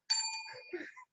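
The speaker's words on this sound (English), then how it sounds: "You just hold the bell there, Belly." A single bright ding from a small bell rings out and fades, followed by a brief second tone.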